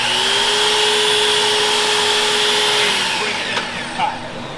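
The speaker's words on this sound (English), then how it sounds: "when you're cutting with this saw or any slide compound miter saw" A slide compound miter saw cutting wood molding gives a loud, steady high whine of spinning blade and motor that holds for about three seconds, then winds down with a few clicks and clunks as the cut finishes.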